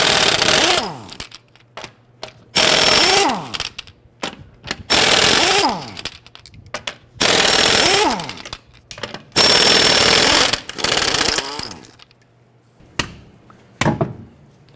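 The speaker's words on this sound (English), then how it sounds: "Using our 22mm socket, we're going to loosen and remove our lug nuts." Ratcheting bursts from a wrench with a 22mm socket loosening lug nuts on a Honda Pilot, five or six loud rapid runs separated by short gaps, then a few lighter clicks at the end.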